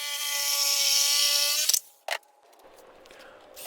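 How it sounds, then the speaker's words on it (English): A jigsaw cuts a dust port hole through a wooden miter saw stand base, buzzing steadily and close for about a second and a half before stopping, followed by a few brief knocks and handling clatter. "Then went ahead with a jigsaw and just cut that out."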